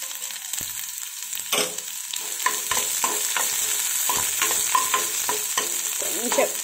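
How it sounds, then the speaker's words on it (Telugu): Finely chopped small onion frying in oil after cumin, for onion-tomato Maggi: a close, continuous sizzle broken by repeated clicks and scrapes of a spoon stirring the pan, with no talk. "ఇప్పుడు ఆనియన్స్ వేద్దాం"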